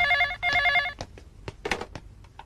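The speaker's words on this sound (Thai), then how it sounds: "โทรศัพท์นี่เร็ว" A telephone bell rings in two short electronic bursts in a Chinese action film, followed by clatter and handling noises.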